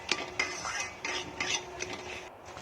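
Metal spoon stirring and scraping biryani spices (turmeric, chili, cumin, salt) in a pot, a series of sharp clinks and scrapes about every half second, close and fairly quiet with a faint frying hiss underneath.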